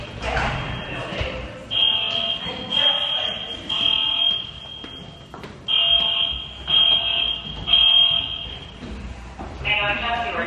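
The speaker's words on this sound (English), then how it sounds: "This is what our fire alarm sounds like." A building fire alarm sounds in repeating bursts of a shrill, steady electronic tone during an early-morning evacuation of a college residence building, loud and close, with people talking and moving around beneath it.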